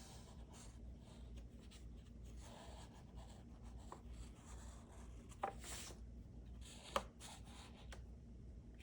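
A pen scratches softly on watercolor paper while ink shapes are drawn. The faint, continuous scratching rises and falls close by over a low room hum, with a couple of small taps.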